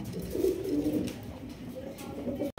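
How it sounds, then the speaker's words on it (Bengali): Budapest pigeons, a large black pair, coo close by in low, throaty rolling calls that run steadily through the moment with soft background murmur. "এটা বুদাপেস্ট ভাই, বুদাপেস্ট কবুতর।"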